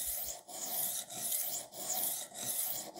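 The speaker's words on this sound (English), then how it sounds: "you just roll it backwards and forwards, and you'll hear it biting into the knife as it sharpens" A Hone rolling knife sharpener is rolled back and forth along a knife blade, producing close, continuous rasping grinding strokes in a regular rhythm with short pauses at each change of direction.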